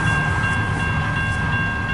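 Steady, loud rolling roar of a CN westbound manifest mixed freight train passing close by, with sustained metallic wheel whine above the rumble and light rhythmic clatter, heard alone.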